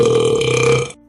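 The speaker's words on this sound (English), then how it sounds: "he burps again" A single loud, deep belch rolls out for nearly a second with a rough, buzzing tone, then cuts off abruptly into silence. No one speaks.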